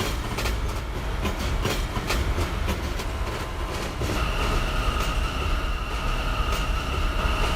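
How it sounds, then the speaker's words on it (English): An R179 New York subway train on the B and D lines hauls along the track with a loud, steady rumble and rhythmic wheel clatter, and a propulsion whine rises in the second half. "the propulsion sound doesn't change too drastically when we haul on an R179"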